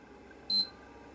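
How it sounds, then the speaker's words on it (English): A PlayStation 3 console gives one short, clear electronic beep as it restarts, alone over faint background hiss. "until your PlayStation makes a beep sound and then restarts"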